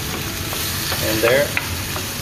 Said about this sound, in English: we have our beef frying off